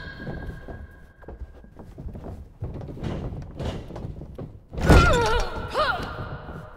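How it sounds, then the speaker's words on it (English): Thudding wrestling strikes in WWE 2K22, with blows landing in the corner of the ring: a string of dull, mid-loud impacts under crowd noise, ending in a sharper heavier hit with a commentator's voice behind it. "Laying in those shots in the corner."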